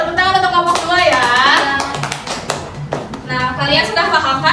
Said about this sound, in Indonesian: boleh tepuk tangan untuk kelompok 2 ya